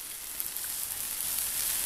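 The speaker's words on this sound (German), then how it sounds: "ich werde das hier mal ein bisschen anschwitzen" Vegetables sautéing in a cast-iron Dutch oven, a steady soft sizzle and hiss at moderate level, gently building without interruption.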